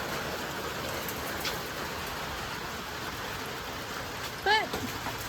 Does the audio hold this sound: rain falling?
yes